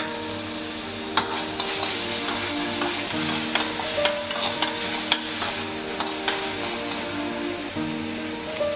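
Capsicum sautés in melted butter for white sauce pasta, making a loud, steady sizzle close by, broken by small clicks and taps from a stirring spoon against the pan.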